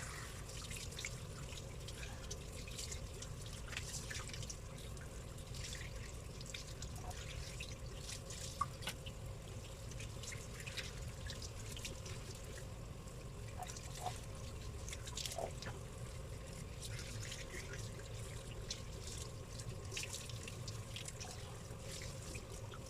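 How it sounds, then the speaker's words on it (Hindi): Running tap water splashes steadily over slices of aloe vera being washed in a sink, a continuous soft trickle with scattered drips and light handling sounds throughout. "यहाँ पे इनको अच्छी तरह हम वॉश करेंगे।"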